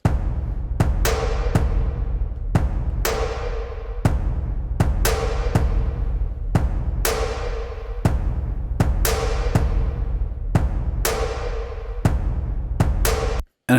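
UJAM Relic drums plugin at default settings, heavy booming cinematic drum hits in a steady pulsing rhythm, deep resonant low end with sharp attacks and long decays, loud and alone, ending abruptly.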